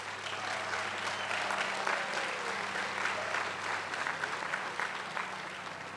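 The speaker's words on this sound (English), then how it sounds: "Would you please join me in giving a round of applause to all the members of the platform party." Audience at a university commencement ceremony applauding the platform party, a steady dense wash of clapping filling a large hall.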